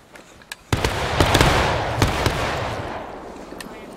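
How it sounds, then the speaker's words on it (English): Musket gunfire in the Civil War video game War of Rights: a few sharp distant shots, then a loud near volley that rolls into a sustained crackle with scattered reports fading over several seconds. "Once you've reloaded, keep on firing."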